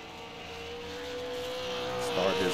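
A race car, the 003 machine, rolls onto the track to begin a timed lap, its engine droning steadily as a rising tone builds, swelling louder toward the end with no talk over it.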